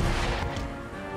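A single heavy artillery blast from Empire: Total War, a loud, booming crash at the start that rolls off over about a second.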